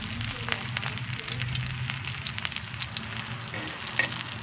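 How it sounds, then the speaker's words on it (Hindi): Sandwich filling fries crisply in a pan, a steady close sizzle with a couple of sharp pops breaking through, no voices over it. "ये फ्राई हो चुका है और बहुत क्रिस्पी फ्राई किया है मैंने"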